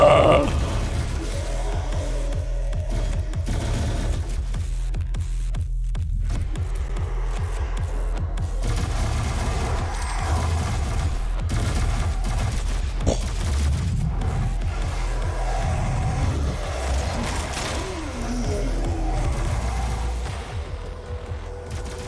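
Heavy gunfire and booming blasts from the first-person shooter Doom (2016) on Nightmare difficulty, a continuous loud barrage under game music with scattered bursts and no clear talk.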